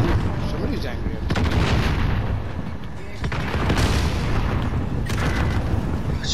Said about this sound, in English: they've just thrown like two rockets and a five grenades at us